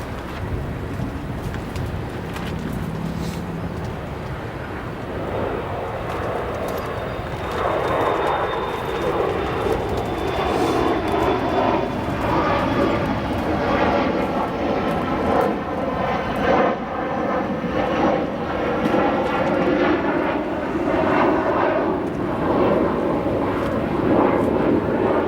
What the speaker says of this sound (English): we have Alaska Airlines flight 421, now departing to Seattle